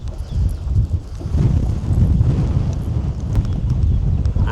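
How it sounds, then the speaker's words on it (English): Strong wind buffets the microphone on a riverbank during catfishing, a steady low roar and rumble filling the whole stretch, loud and constant with gusty swells and no voices. "Wow, this wind's kind of ridiculous."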